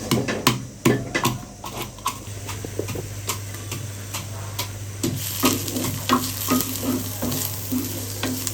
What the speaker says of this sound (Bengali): বেশি ভাজবো না লাল লাল ভাজা না যতটুকু হালকা একটু ভাজা